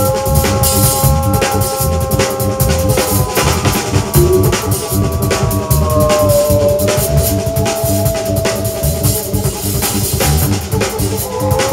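A band plays a dense 1974 jazz-funk jam meant to evoke hornets, with busy percussion, driving bass and sliding, buzzing keyboard lines, loud and continuous.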